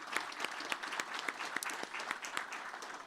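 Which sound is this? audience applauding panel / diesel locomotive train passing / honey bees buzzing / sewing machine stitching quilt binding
audience applauding panel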